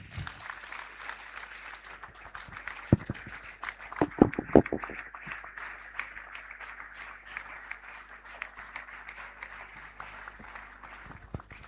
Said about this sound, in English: I think he deserves a bigger round of applause.